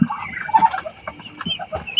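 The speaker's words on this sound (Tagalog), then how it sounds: "ito yung pabo." A turkey calls and clucks at close range, gobbling or clucking in short bursts over a faint steady background hum, at night.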